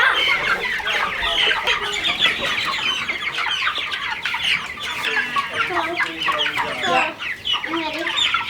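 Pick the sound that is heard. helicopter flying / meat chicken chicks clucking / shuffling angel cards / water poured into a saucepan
meat chicken chicks clucking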